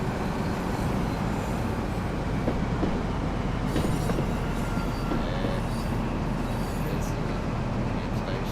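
An HST 125 train in Train Sim World 3 runs continuously, with a loud steady rumble of wheels on rail, some clickety-clack and brief squeals throughout.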